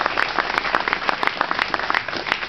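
An outdoor gathering at a patronal festival claps for the firefighters, a fairly close, steady patter of many hands with distinct individual claps throughout.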